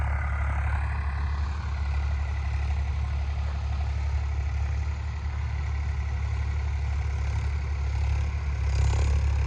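A tractor pulling a super seeder at the start of wheat sowing runs with a deep, constant engine drone, loud and steady throughout.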